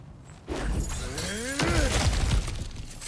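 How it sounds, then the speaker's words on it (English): Objects shatter and crash apart in God of War Ragnarok, with a loud, sustained burst of breaking debris and rumbling impacts lasting several seconds. "back to smashing through things for fun and profit"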